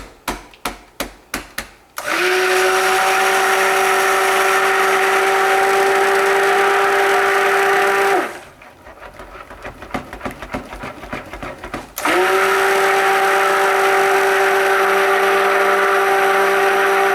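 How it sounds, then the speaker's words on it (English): A stick blender whirs loudly and steadily as it mixes soap batter, in two long bursts separated by a brief pause filled with rattling. A few quick clicks open the sequence. "gonna stick blend that a bit."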